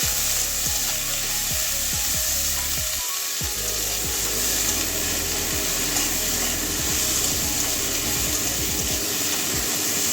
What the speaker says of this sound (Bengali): ভালো করে মিশিয়ে নেব নুন দিয়ে ভালো করে হলুদটাও দিয়ে দিলাম